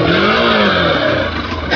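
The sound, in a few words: Hero Xpulse motorcycle engine revving while climbing up a bank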